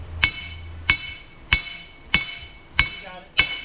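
A hammer strikes metal on a truck's 9.5-inch 14-bolt six-lug rear axle six times at a steady, roughly half-second pace, each hit a sharp, piercing, ringing clang that fades quickly.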